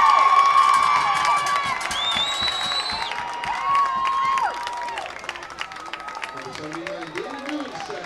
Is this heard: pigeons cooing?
no